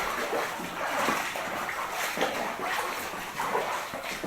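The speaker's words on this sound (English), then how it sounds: "Holy, there's ever a lot of water in here right now." Water splashing and sloshing inside a cobalt mine tunnel, a continuous wet churning with irregular splashes at moderate distance, no talk over it.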